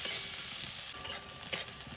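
Onions frying in a pan hiss steadily with a bright sizzle while a utensil stirs them, scraping in short bursts over the continuous crackle, with no one speaking.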